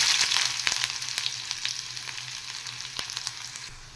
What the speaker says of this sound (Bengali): তেল গরম হয়ে গেছে, আমি প্রথমে সামান্য একটু পেঁয়াজ দিয়ে দেব